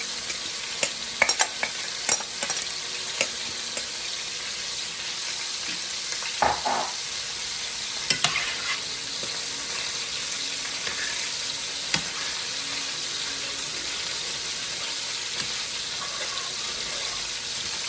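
A spoon stirring and scraping bacon bits off the bottom of a pot for Jamaican-style chicken cacciatore, steady sizzling frying underneath with occasional scraping clatters, clearest in the first half.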